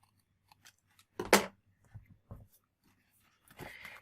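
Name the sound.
scissors trimming excess paper strip on a card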